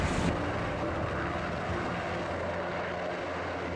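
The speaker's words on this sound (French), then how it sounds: "l'hélicoptère repart aussitôt sur la base aérienne" A distant rescue helicopter's engine drones steadily, fading slightly over a few seconds as it flies away over the sea, with rushing wind noise underneath.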